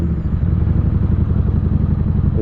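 A Harley-Davidson Street Rod motorcycle with an aftermarket exhaust idles with a deep, throaty rumble, a steady loud low-pitched burble close by and without any talking.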